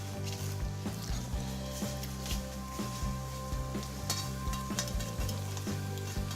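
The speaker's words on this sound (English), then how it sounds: "Just stir it in. And lastly, you put in your omelette." Peas and omelette strips are stirred into special fried rice as it fries, a steady close sizzle with the scrape and clatter of a spatula working through the rice, no talking.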